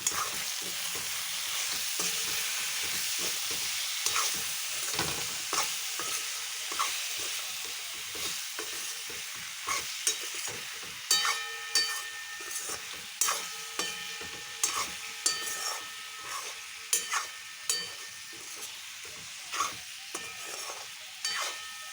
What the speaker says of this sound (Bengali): পরিমাণ মতন হলুদ এবার ভালো করে নাড়াচাড়া করে নেবো